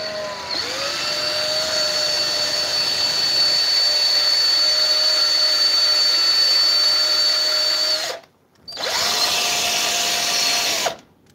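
A handheld power drill fitted with a spade bit spins up to peel an apple, giving a steady, close, high-pitched whine. It cuts out briefly around the eighth second, restarts, then stops again at the end.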